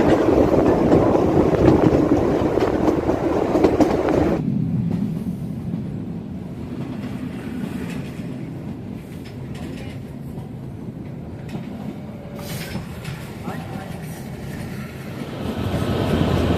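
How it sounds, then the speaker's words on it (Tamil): The Kalka–Shimla toy train rumbles steadily along the mountain tracks, loud at first, then abruptly muffled and lower as it enters a tunnel, continuing as a dull roar. "ஒரு பக்கம் மலை மேலே ட்ரெயின் போய் மலைக்குள்ளெல்லாம் கொடைஞ்சி உள்ள ட்ரெயின் உள்ளே போகுது"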